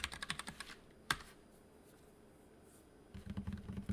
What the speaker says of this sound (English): I hear you frantically typing on Whitaker's words